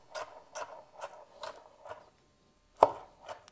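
A knife chopping tomato pieces on a cutting board for garnish, five or six even, evenly spaced taps, then a brief pause and one sharper, louder chop followed by a lighter tap, close and alone.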